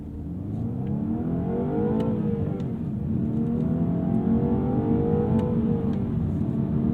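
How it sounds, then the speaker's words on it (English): A turbocharged engine in a 2018 BMW 230i accelerates hard in a steady, continuous pull, its rising tone sweeping up over several seconds, heard loud and close with no talking. "The engine definitely feels more turbocharged than you may ideally want."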